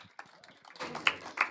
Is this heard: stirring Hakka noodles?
no